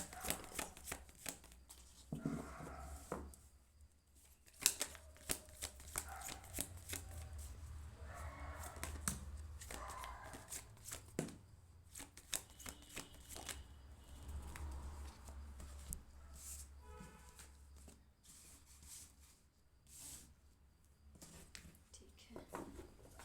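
Tarot cards being shuffled by hand in quick riffling, flicking bursts that come and go, close and fairly soft, with a low hum underneath.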